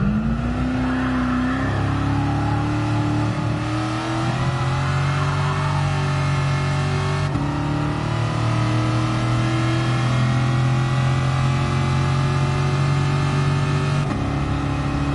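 A Shelby Cobra 427 engine in a classic Le Mans racing video game drones loud and close, revving steadily upward under acceleration with brief dips at gear changes and no talk.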